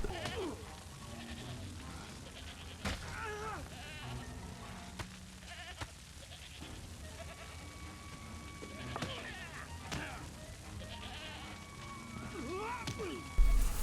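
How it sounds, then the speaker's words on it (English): Goats bleat in the Indiana Jones and the Staff of Kings video game, several wavering calls scattered across the scene over a steady game soundscape, with speech-like voices mixed in. "you unleash some goats and get pummeled by some Russians"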